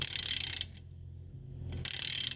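Rapid metallic knocking and clattering close by from a car suspension control arm joint during replacement, stopping for about a second before the same dense knocking resumes.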